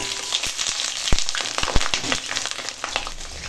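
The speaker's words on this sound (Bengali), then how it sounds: "তো আগে ভেজে নিই আলু আর পটলটা।" Cubed potatoes and pointed gourd frying in hot oil, a close, steady sizzle broken by sharp pops and crackles.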